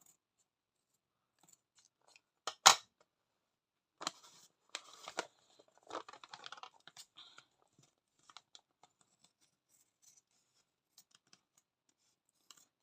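Scissors snip away excess lace during a stamped card embellishment craft, a sharp close cut followed by a run of small, quieter snips and rustles in an otherwise quiet room.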